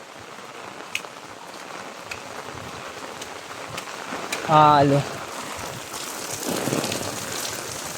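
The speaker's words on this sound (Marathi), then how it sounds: "हा वरून पाऊस चालू आहे" Heavy monsoon rain pours steadily over a Konkan village, a continuous wash of hiss with occasional sharper drips, while someone speaks briefly in the middle and a tonal chirp cuts in.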